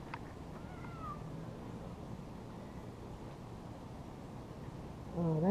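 A large male cat meows once or twice, faint and brief, over steady outdoor background noise, with a louder burst of sound at the very end.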